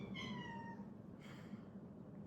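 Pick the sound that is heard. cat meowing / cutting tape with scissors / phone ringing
cat meowing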